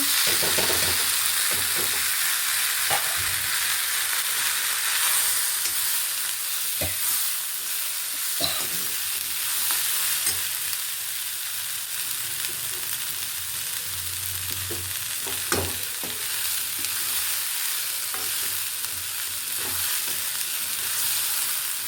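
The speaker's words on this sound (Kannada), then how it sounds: "ಈರುಳ್ಳಿ ಎಲ್ಲ ಚೆನ್ನಾಗಿ ಹುರಿದಿದೆಯಲ್ವಾ ಇವಾಗ ಇದಕ್ಕೆ ನಾವು ಈ ಕಾಳುಗಳು ಹಾಕ್ಕೊಂಬಿಡೋಣ" Sprouted horse gram fries with onions in a pan for a village-style curry, giving a steady, close sizzle with occasional scrapes and clinks from stirring throughout.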